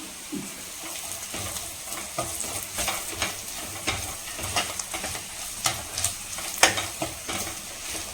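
Tempering being mixed in a pan for tomato dal sambar, a constant close sizzle punctuated by repeated scraping and clacking strokes of a spoon at an uneven pace, without talking.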